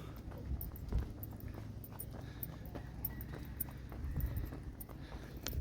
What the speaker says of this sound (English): And the first time I've seen horses just roaming around.